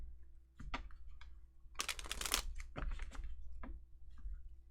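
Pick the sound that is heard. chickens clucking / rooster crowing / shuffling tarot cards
shuffling tarot cards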